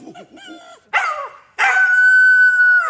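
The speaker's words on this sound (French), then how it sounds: "mon chien vient de se mettre à hurler à la mort devant la porte de Monsieur Bergamote" A dog howls in front of a door, starting with short rising whines and yelps, then a loud sustained mournful howl held steadily to the end, close and alone.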